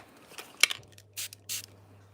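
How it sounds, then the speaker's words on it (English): A few quick hissing spritzes from a spray bottle, short and fairly quiet, separated by brief pauses. "spray some water"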